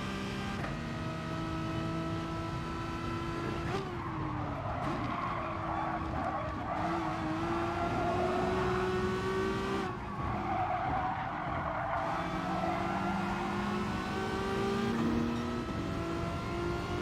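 Race car tires squealing and skidding in GT Sport during a USA daily race, long screeching slides over a droning engine that rises and falls through corners, close and loud throughout.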